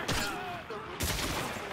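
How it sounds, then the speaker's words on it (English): A web bomb gadget going off in Marvel's Spider-Man video game, two loud bursty blasts with whooshing debris, the second hitting at about one second in, with no talking. "Yes, web bomb."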